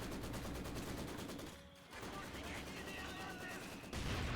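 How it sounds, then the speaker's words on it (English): Mortar shell impact in a Company of Heroes 2 match, landing amid constant loud in-game gunfire and machine-gun bursts, with a short lull before the battle noise resumes. "Ooh, and a good mortar hit as well."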